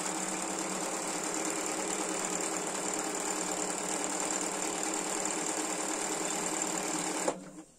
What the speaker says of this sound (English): I have my machine on a low speed just so that you can see how easy I'm sewing on the silk with the size 12 needle.